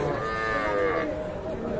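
A young calf moos once, loud and close, at a cattle market where small calves are being bought and sold, with a low crowd murmur behind.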